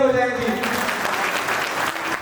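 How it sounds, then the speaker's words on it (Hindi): Audience applause at a Hindi civic event on the constitution, a dense broadband patter that swells after a brief start with a voice over the opening and continues steadily for about two seconds. "एक बार तालियां बजाएं जी।"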